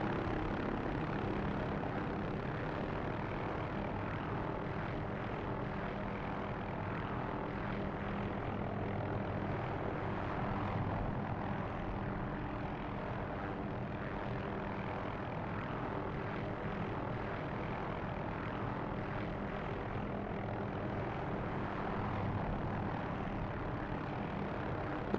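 An AH-6 Little Bird helicopter in the DCS combat flight simulator flies in a steady, continuous drone of rotor and engine noise that fills the whole stretch at an even, fairly loud level with no talk.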